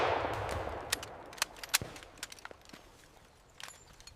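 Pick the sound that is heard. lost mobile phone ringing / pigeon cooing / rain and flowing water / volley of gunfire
volley of gunfire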